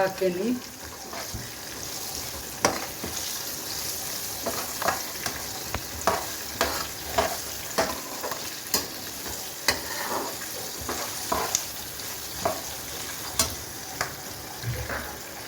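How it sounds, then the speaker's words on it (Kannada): Curry leaves in hot tempering oil hiss and crackle steadily while a spoon scrapes and clinks against the pan in uneven, repeated strokes. "ಇದು ಒಗ್ಗರಣೆ ಆಗಿದೆ ಇದಕ್ಕೆ ನಾನು"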